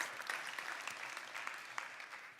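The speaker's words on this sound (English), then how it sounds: "I think Andrew deserves another round of applause for getting through that." An audience at a data conference in Helsinki applauds with a dense, continuous round of clapping. Individual claps poke out at moderate volume.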